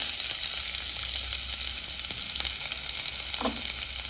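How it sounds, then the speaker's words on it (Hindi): Onions frying in a small amount of oil in a pan, a loud continuous sizzle close by with light stirring scrapes and one brief clatter near the end. "और अब इसमें हम डालेंगे ये प्याज"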